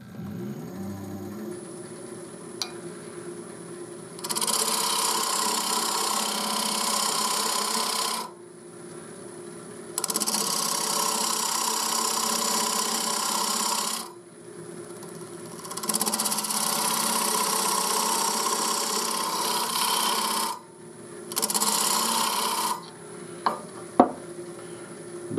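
The corner of a square wood scraper hollows a shallow depression into wood in four long, steady rasping strokes, close and fairly loud, with quiet gaps between them and a few sharp taps near the end.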